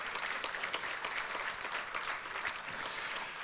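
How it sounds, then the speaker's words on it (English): Audience at a business awards evening giving a round of applause, dense continuous clapping from a crowd at moderate distance. "Please give her a big round of applause."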